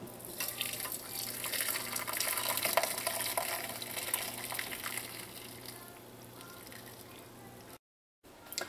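Sorrel drink being strained in a kitchen, a soft continuous pouring and trickling of liquid that gradually fades before a brief cut near the end.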